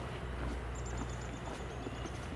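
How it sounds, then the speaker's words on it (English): Outdoors on a spring day, a downy woodpecker gives a faint, distant rapid series of high thin notes lasting over a second, set against a soft murmur of wind and background noise. "And just heard a downy woodpecker."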